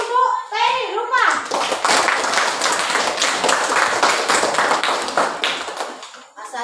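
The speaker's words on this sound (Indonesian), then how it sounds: "Aplaus dulu untuk Peri, lupa." Classroom applause for a student presenter, a dense burst of many hands clapping that starts after a second of children's voices and runs steadily to the end, close and loud, with kids chattering underneath.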